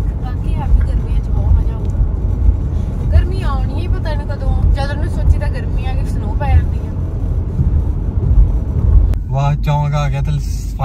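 A car drives along a road near Brampton at roughly 80-90, giving a steady low road rumble and engine drone, while people talk over it throughout.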